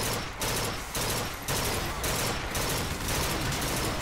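Gunfire in the video game Bioshock Infinite, dense rapid bursts of shots in a loud, nearly continuous barrage with brief gaps between volleys.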